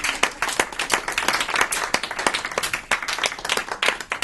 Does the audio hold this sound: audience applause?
yes